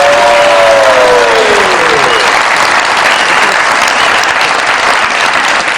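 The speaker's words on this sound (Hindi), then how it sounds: "बहुत सारी तालियों में" Loud, sustained audience applause in a television comedy studio, a dense wash of clapping from a crowd that holds steady throughout, with a brief descending tonal sweep near the start.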